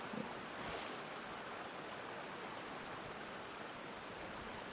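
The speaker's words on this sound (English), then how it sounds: "You should try entering the waterfall." A steady, even rush of falling water from a waterfall in the video game Genshin Impact, continuous and fairly faint, with no breaks or talking over it.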